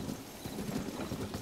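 A horse galloping in the video game The Legend of Zelda: Tears of the Kingdom, its hooves beating a quick, steady clip-clop rhythm close up, with no talking.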